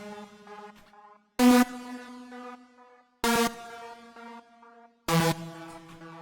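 Unprocessed main synth for a trance track plays simple short notes, a steady harmonic tone punctuated by three bright, louder note stabs spaced about two seconds apart, with no processing.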